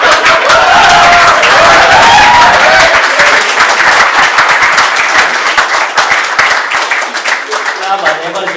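An audience applauds after an improvised comedy act at a live show, with dense, loud clapping from a crowd that gradually thins toward the end while a voice talks over it.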